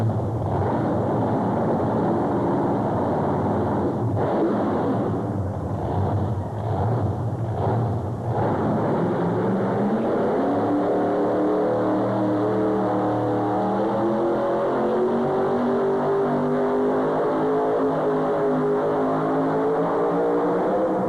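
A 1980 Chevrolet pulling vehicle with a 510 cubic inch blown engine roars steadily at a tractor pull, its engine pitch climbing as it pulls down the track, loud and continuous throughout.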